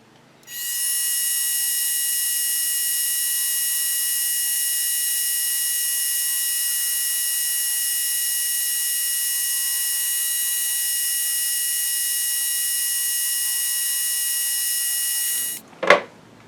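A fine high-pitched drill bores a 0.75 millimeter hole in a rod, whining steadily and continuously for about fifteen seconds, then cuts off with a short clatter.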